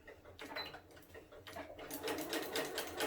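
A sewing machine back stitches a rag quilt seam, its steady rapid needle ticking close and alone, with brief shifts in pace as the stitching reverses.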